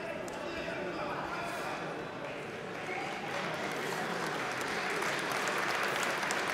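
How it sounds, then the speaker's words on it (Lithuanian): A hall crowd applauds after a 50 kg amateur boxing bout, a broad sustained wash of clapping at a distance, with a commentator's voice running over it. "Salė palydė aplodismentais."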